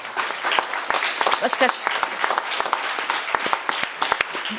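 An audience applauds Nicolas Beaujard at a conference, a dense spread of sharp individual claps with a voice briefly audible over the clapping.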